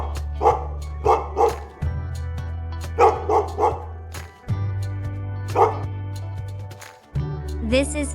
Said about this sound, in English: This is dog.